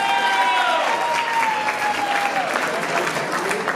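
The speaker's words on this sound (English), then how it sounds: "We need another round of applause, everybody. Let's hear it one more time." Wedding reception guests applaud in a steady, sustained wash of clapping that fills the room, with cheering and voices mixed in throughout.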